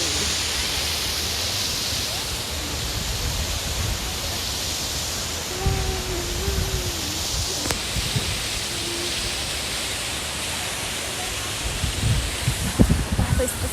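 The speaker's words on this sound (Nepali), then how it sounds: "मेरो पछाडि नै यस्तो मजाको झरनाहरू चाहिँ बगिरहेको छ" Rushing water from the falls at Sanga Waterfall Eco Village, a steady broadband roar filling the whole stretch at constant loudness, with a few faint brief sounds over it near the end and no clear speech.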